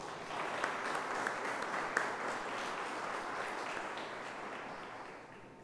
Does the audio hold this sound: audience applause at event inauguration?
yes